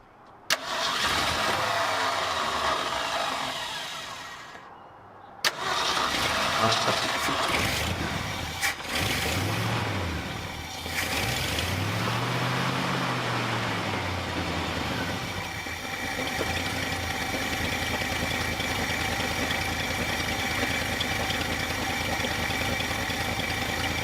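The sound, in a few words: 1966 Ford F250 engine cranking, starting and idling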